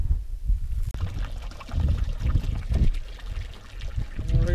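Water gushes from a farm pump through a 1.5-inch hose on a dairy and beef farm, a steady, close, low-pitched splashing and gurgling flow that carries on with uneven surges.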